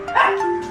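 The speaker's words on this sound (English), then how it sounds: "I'm going to go in because I can hear some dogs barking." Small pet dogs give a short, loud, high-pitched bark-yip close by as someone arrives home, a single excited burst with a tonal whine trailing after.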